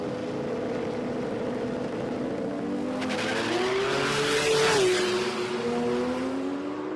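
A drag racing car launches with its tyres spinning at a Garrett Brisbane Jamboree street event, a loud engine roar climbing in pitch with tyre squeal layered over it, swelling to a peak midway and then carrying on strongly.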